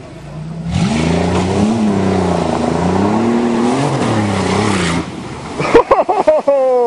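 Minivan engine revving hard as it drives at high speed toward a pond on a farm, a loud, steady roar with rising and falling pitch for several seconds, then cut off by water splashing and voices.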